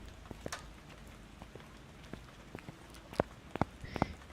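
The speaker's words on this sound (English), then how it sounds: "Why are you raining all the time, by the way, on the Alan Wake maps?" Steady rain from the Alan Wake map in the game Phasmophobia, a faint even hiss with scattered sharper drips and taps throughout, no voices.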